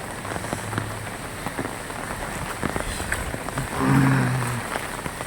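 Heavy rain from Cyclone Fengal pours steadily onto surfaces and floodwater, a dense continuous hiss with scattered drops. A brief low rumble swells near the end.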